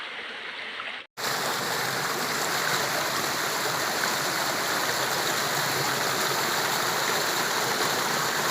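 At Champawati waterfall the water makes a steady, full roar as the fall and its stream rush nearby. A momentary cut near the start gives way to an unbroken, loud wash of flowing water with no voices.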